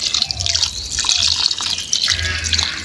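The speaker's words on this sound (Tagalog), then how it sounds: "Tubig, pampalambot sa ating karne." Water poured into a pot of pork adobo cooking with vinegar, bay leaves, peppercorns and oil, giving a close, steady splashing trickle for a few seconds with no talk.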